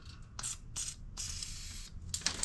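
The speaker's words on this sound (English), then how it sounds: "Sounds like the hose is broke off." A broken-off hose hisses a spray in several short bursts and then a longer gush. It sounds close and moderately loud.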